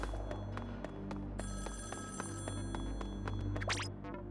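A telephone rings in Splatoon 2's Octo Expansion, a bright electronic ringing tone that starts partway through and repeats over quiet game background with light clicks, fairly faint.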